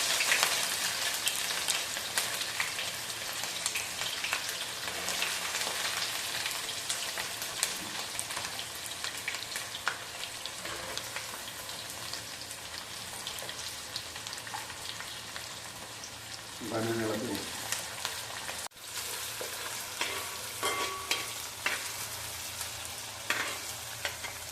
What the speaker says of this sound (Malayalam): ഈ സമയത്ത് നമുക്ക് അരിഞ്ഞു വെച്ചിരിക്കുന്ന ഇഞ്ചി, വെളുത്തുള്ളി, പച്ചമുളക് ഇട്ട് കൊടുക്കണം